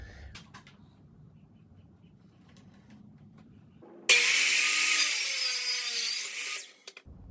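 A 1x6 pine board being sawn for a stovetop cover: after a few seconds of quiet room tone, a loud, harsh saw cut starts abruptly and runs steadily for about two and a half seconds, then stops, followed by a couple of faint knocks.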